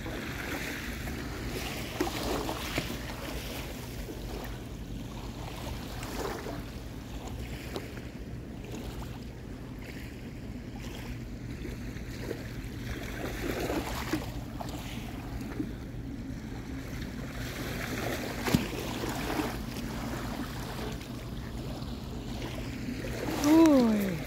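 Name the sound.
boat on strengthening sea waves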